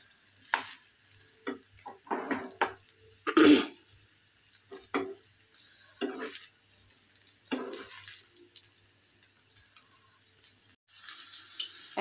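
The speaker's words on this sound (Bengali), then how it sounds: "আর হাই ফ্লেমে 1 মিনিট মতো নাড়াচাড়া করে নিলেই তৈরি হয়ে যাবে" Vegetable fried rice is stirred in a pan over high flame, with bursts of sizzling and scraping in uneven strokes between quieter pauses, heard close up without talk.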